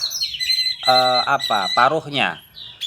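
An orange-headed thrush (anis merah) with a broken upper beak gives a run of loud, close, squawking chirps and short whistled notes in quick bursts against a quiet background.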